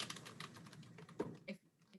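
Typing on a computer keyboard, a quick run of soft clicking keystrokes with a couple of sharper key hits, heard close and fairly quiet with no talking.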